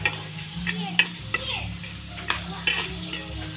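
Sliced papaya fries with a steady close sizzle in a pan while a utensil stirs and scrapes, giving small periodic clinks over the constant crackle.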